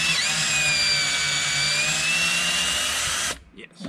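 A power drill backs out 9/16 screws from a plate under the dash of a 2015–2018 Ford F-150. One steady, loud whine runs continuously for over three seconds, then cuts off abruptly into quiet.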